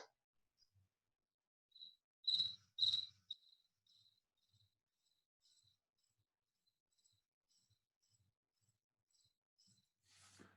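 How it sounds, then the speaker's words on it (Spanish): A cricket chirps faintly in a quiet room, with a few louder clustered chirps early on and then sparse soft trills spread out over about ten seconds. "Es hora de que salga el grillo."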